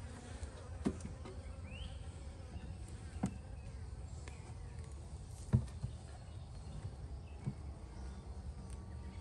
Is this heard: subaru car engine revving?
no